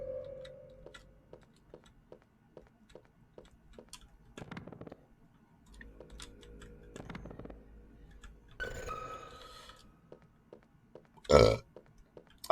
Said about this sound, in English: I'm sorry I'm burping so much